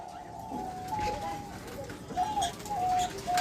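Doves coo softly in a breeder's aviary of nesting pairs, several low repeated calls overlapping with someone talking nearby.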